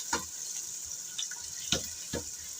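Two small chopped onions sizzle in hot oil, with a soft hiss broken by a few sharp spattering bursts and stirring scrapes close by.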